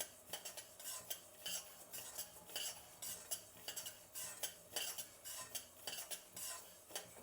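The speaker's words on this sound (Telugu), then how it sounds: "కడాయి అనేది వేడిగా ఉంది, ఫాస్ట్లో వేగిపోతుంది బియ్యం కూడా." Rice is stirred and fried in a hot kadai, with a steady rhythm of metal spoon scrapes and clinks over a faint, constant sizzle, close and quiet, with no talking.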